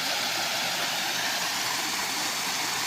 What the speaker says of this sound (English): So I'm guessing these are the Chalk Ridge Falls.